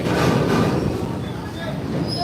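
A steady rumbling roar of a train drawing into a station, loud and continuous throughout.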